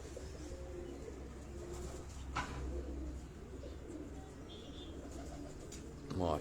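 Pigeons cooing faintly in a Rawalpindi-Islamabad loft, low steady coos under background hum with a short chirp near the end and no clear talk.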